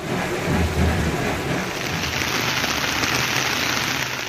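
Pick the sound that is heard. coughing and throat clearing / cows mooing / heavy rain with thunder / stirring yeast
heavy rain with thunder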